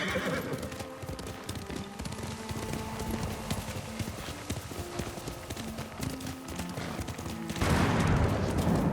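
Horse hooves clip-clop at a steady gallop in the Ghost of Tsushima video game, layered over a dense game soundscape with music, and a louder rush of noise swells near the end.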